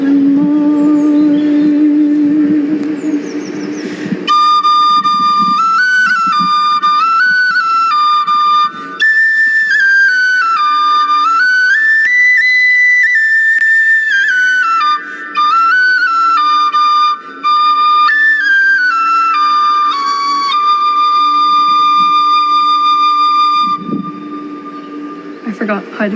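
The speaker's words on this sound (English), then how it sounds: "I forgot how to play the whistle part." A tin whistle plays a lively folk melody up close and loud, sustained for over twenty seconds with quick ornamented runs and brief breaths between phrases.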